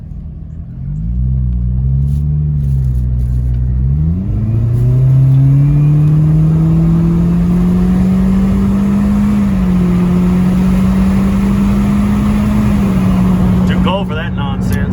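A Toyota 4Runner with a Borla exhaust pulls away and accelerates hard, its engine note rising through gear changes into a loud sustained drone, with a voice briefly heard over it at the start.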